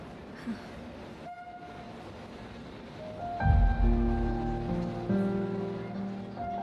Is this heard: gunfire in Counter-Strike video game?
no